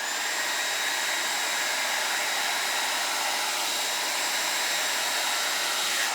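An electric blower pushes white resin across a Dutch pour, giving off a steady, loud, high-pitched whoosh of air that holds level throughout with no voices.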